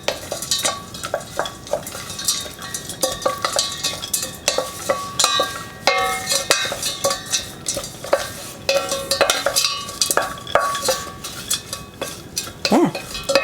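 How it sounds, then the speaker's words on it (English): Crumble mix being stirred into a bowl for a plum crumble, a steady run of scraping spoon strokes and clinks against the bowl, close and continuous with a rhythmic beat. "I'm just going to add all the crumble mix in and give it a stir, mix it in thoroughly"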